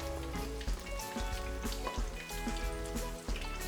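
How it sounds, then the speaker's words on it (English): Steady crackling and sizzling of chicken and pork fritters frying in hot oil, dense popping bubbles with faint tones in the background. "They look so beautiful when they're frying."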